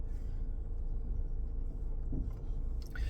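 A car drives along while its driver attempts a maneuver with trucks nearby, giving a steady low engine and road rumble with a brief louder swell near the end and no speech.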